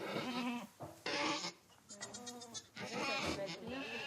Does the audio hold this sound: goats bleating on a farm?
yes